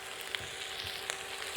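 Chicken fried rice sizzles steadily in a hot pan just after soy sauce goes in, a dense crackling hiss with a few sharper pops.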